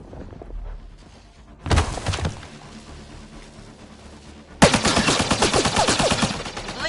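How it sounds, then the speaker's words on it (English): Bursts of rapid automatic gunfire in a PS4 shooter game, a short volley followed by a longer, louder sustained burst, with quieter battle noise between them. "Just keep firing, we can do this!"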